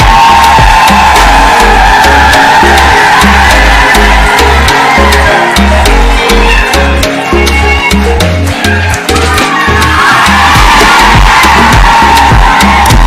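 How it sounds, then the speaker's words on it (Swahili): A large crowd at a Kenyan political rally attended by the president roars and cheers to welcome a speaker, a loud, sustained wall of voices over a thumping, rhythmic low beat. "Tumkaribishe kwa makofi"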